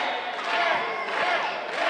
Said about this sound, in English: Why is this crowd chanting Jet?